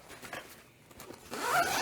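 A zipper on an Enya guitar gig bag being pulled, a quieter rasp first and then a louder, longer zip close by.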